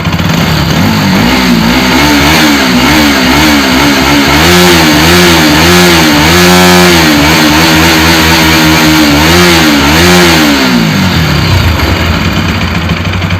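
A refitted Bajaj NS 200 motorcycle engine is revved up from idle in a series of rising and falling throttle blips, loud and close. It settles back to idle at the end.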